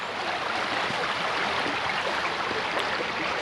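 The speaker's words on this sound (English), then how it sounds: "Funneling water down through that opening." Steady broadband rushing of water pouring through a narrow sluice opening near Hook Norton in winter, constant and fairly close, with no voices.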